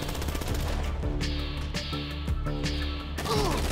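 Bursts of automatic gunfire in GTA 5, several loud rapid volleys of sharp cracks separated by short pauses, close and harsh, with heavy impacts mixed in.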